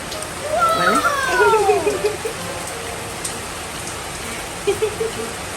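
Steady rain falls outdoors while a young child plays in it, and children's voices and chatter rise briefly over the constant hiss of the rain.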